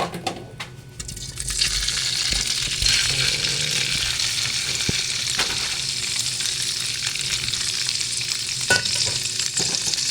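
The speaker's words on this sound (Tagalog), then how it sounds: "So ayan guys, iprito muna natin yung ating tokwa." Steady, dense sizzling of tofu frying in hot oil, with occasional stirring scrapes and a few clicks, close and continuous.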